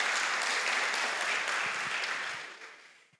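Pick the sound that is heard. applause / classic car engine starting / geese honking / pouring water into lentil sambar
applause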